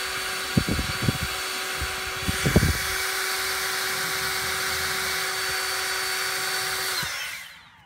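An EGO 530 CFM LB5302 battery leaf blower runs at a steady, loud high-pitched whine for several seconds after a few handling knocks, then spins down at the end.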